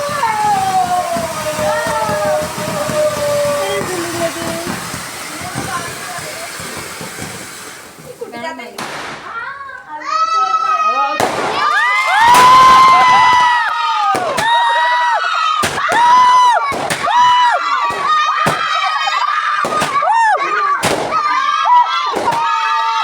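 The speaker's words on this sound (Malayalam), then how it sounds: "എല്ലാവരും പടക്കം പൊട്ടിക്കുന്ന തിരക്കിലാണ്." Firecrackers burst in a run of sharp bangs, close and loud, with children shouting and excited voices all around them at a festive gathering.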